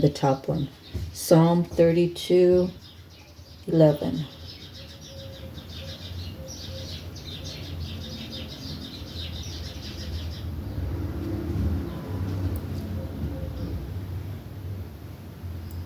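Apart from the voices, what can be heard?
birds chirping outside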